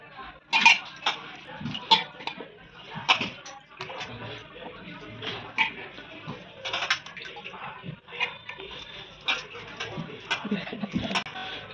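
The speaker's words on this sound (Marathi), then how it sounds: "आपण हे सगळं आता स्वच्छ धुवून घेतलेलं आहे" Capsicum, green peas, potato and beetroot being washed for pav bhaji, with irregular clinks and clatters of a pot or dish and splashing water, close and intermittent.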